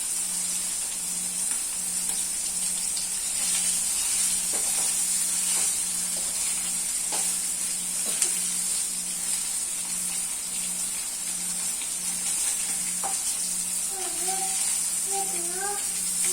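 Pieces frying in hot oil, a steady bright sizzle running throughout at moderate loudness, with faint clinks and a voice talking quietly near the end.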